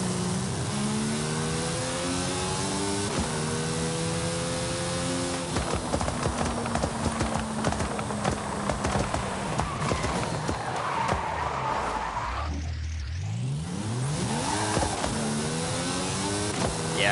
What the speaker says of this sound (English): I don't quite think a Formula 1 engine is supposed to be backfiring like this, but I mean, it sounds nice.